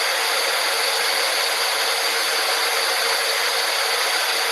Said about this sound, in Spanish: el ruido que vamos a emitir se llama ruido rosa y suena así